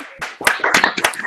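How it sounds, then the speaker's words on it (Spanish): Brief scattered clapping from a few pairs of hands at an online gathering, uneven and close, with sharp irregular claps building over about a second. "Aplausos virtuales"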